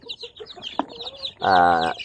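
Pet chickens cluck softly and irregularly at close range, with one louder, drawn-out squawk near the end.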